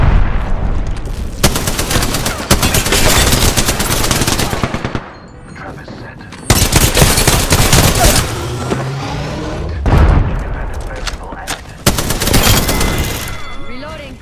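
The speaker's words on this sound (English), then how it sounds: "Getting shot at." Heavy, loud gunfire from the Apex Legends battle royale shooter, with rapid automatic bursts and thudding impacts in long stretches broken by short lulls, dense and close throughout.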